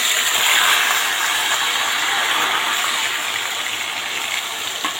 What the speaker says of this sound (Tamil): தண்ணி இருக்கும், வெடிக்கும், அதனால் பார்த்து மெதுவாக சேர்த்துக்கோங்க.